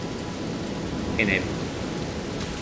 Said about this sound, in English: And the rain has come back though.